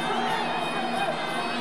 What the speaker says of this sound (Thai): เสียงคนดูตอนนี้อื้ออึงเลยครับในสนาม